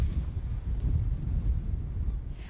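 Strong gusts from Storm Ellen batter the microphone on the Plymouth seafront, a loud low rumbling buffet that swells and eases continuously with no voices.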